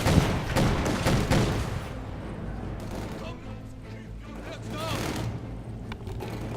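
Machine gun fire from a Company of Heroes 2 match comes in a few bursts of rapid shots at the start, followed by distant battle rumble, under a commentator's talk.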